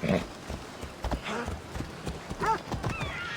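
Horse hooves clip-clop in steady rhythm while a rider travels in Assassin's Creed Odyssey, joined by a brief whinny and scattered voice sounds over the game's ambient backdrop.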